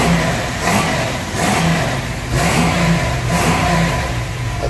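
A 1966 Chevy truck engine revs repeatedly, rising and falling in several throaty pulses over a steady rumbling idle, loud and close with no talking.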